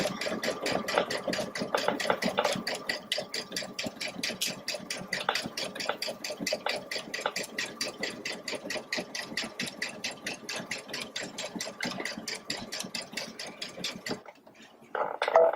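A Baby Lock Solaris sewing machine stitches across the edge of a snap bag piece, its rapid, steady needle chatter running continuously and fairly close for about fourteen seconds before it stops.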